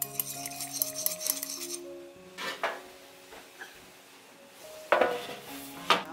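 Vegetable oil, salt and black pepper are stirred in a bowl, with intermittent clinks and scrapes of a utensil against the bowl over a soft background of sustained tones.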